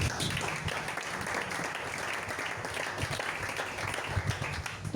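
A church congregation applauds together during a French-language Pentecost service, a dense, steady wash of clapping that carries at even strength through the whole stretch.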